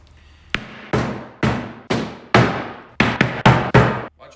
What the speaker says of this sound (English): How about a heavy hammer with a blunt edge?